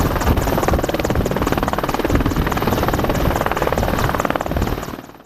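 An AH-64 Apache attack helicopter flies close and loud, its rotor chopping in a fast, steady beat over a constant engine roar that fades slightly at the end.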